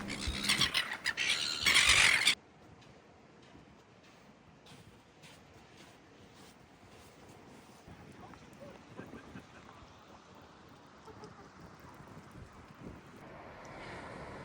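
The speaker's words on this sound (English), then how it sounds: "Just around the corner, we come across a flock of seagulls." A flock of seagulls on a beach on Flinders Island, Tasmania gives loud shrill squawks at first, then fades into steady wind and surf with faint distant calls.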